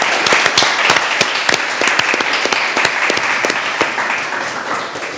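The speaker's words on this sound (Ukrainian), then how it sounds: "це заслуговує на оплески" Loud, close applause from an audience at a year-end awards-style broadcast, a dense crackle of many hands with sharp individual claps poking out, sustained at full strength for about five seconds.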